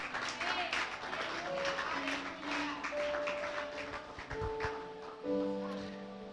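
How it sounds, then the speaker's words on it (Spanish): Applause from a crowd, clapping mixed with voices and music-like tones, moderately loud throughout. "Denle un aplauso a Jesucristo."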